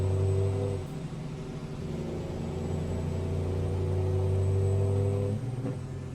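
Freightliner FLC truck engine in American Truck Simulator, pulling away and skipping gears: a steady low diesel drone that dips briefly at one shift, holds and climbs again, then drops at a second change near the end, with no talking.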